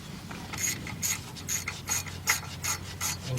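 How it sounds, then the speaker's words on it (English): A 1/4 inch drive ratchet turns a T30 socket while servicing the rear brakes of a Buick Enclave-type SUV, giving a steady run of about eight evenly spaced raspy clicks, close and fairly quiet with no talk. "let's take our T30 socket, 1/4 inch drive with our 1/4 inch drive ratchet"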